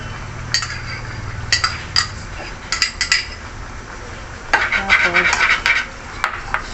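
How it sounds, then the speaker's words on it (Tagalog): A utensil stirs and scrapes through chicken caldereta in a pot with ketchup just added, making intermittent metallic clinks and scraping strokes against the pot, fairly close, over a low background hum. "Haluin natin sa ilalim para mag-mix yung ketchup"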